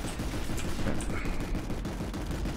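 Gunfire in a shooting video game: dense, continuous rattling shots and booms mixed at steady loudness throughout, with faint voices in the background.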